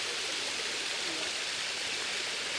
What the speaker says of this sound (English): So we were meant to go down the bottom of the waterfall, but we ended up here.